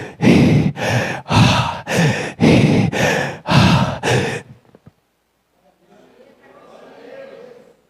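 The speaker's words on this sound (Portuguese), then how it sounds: "Mas esse é o som da minha respiração." Seven loud, even breaths blown close into a microphone, each about half a second long, come in a steady rhythm and then stop. A faint, rough noise follows afterward.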